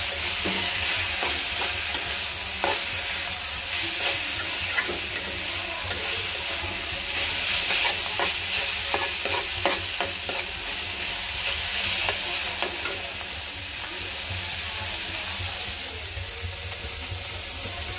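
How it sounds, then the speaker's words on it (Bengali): Tomato and egg masala sizzles steadily in a frying pan, with repeated spatula stirring scrapes and clicks running throughout at close range, fairly loud and without any talk. "আমি টমেটো ডিম কষাতেছি"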